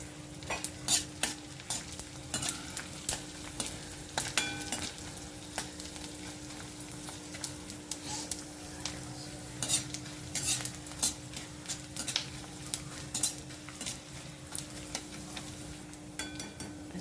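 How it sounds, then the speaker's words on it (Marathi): Steady crackling and sizzling of edible gum frying in hot ghee in a kadhai, with intermittent scraping and stirring clinks from a utensil in the pan. "आता हे तूप ठेवले मी कढईत त्यात हे डिंक थोडं थोडं भाजायचं आहे"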